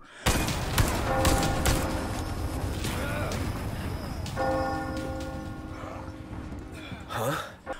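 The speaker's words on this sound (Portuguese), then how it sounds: "é possível pular a parte da vila tocando o sino antes do tempo" Church bell tolling in the village of the video game Resident Evil 4 Remake, deep resonant strikes ringing out with long humming decays, accompanied by thuds and gasping sounds, loud and close.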